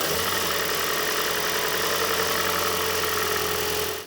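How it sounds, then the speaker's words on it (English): A 2010-2015 Toyota Prius engine runs at idle after an oil change, a continuous low rumble with a faint rhythmic knock, close by, ending abruptly as it cuts off. "start the engine and let it run for about 40 seconds or so"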